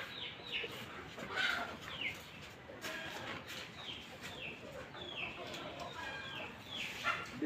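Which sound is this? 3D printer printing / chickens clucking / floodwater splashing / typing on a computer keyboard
chickens clucking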